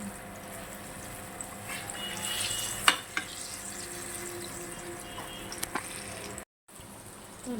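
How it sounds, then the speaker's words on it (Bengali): Palm fruit fritters fry in hot oil with a soft, steady sizzle, fairly quiet and close, broken by a few small clinks and a brief dropout near the end. "দেখো তেল গরম হয়ে গেছে, আর এই জন্য ভাজা বসিয়ে দিয়েছি"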